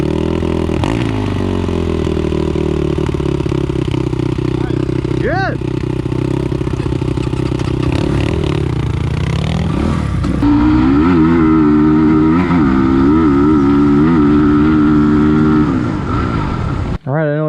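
A 2023 SSR Motorsports SR250S dirt bike with a Lectron carburetor idles and revs after a crash, a loud close single-cylinder drone with rising and falling throttle blips, and a voice speaks briefly over it.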